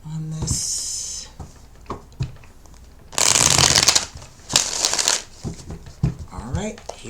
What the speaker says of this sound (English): I'm going to put one more rifle and one more shuffle.